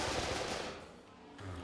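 Rapid crackling pops from a video game car's flame-spitting exhaust burst out loud for about half a second, then fade into a low engine rumble before a short burp returns.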